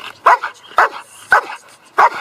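A dog guarding its owner lets out four loud, evenly spaced barks close by, each short and sharp with brief pauses between.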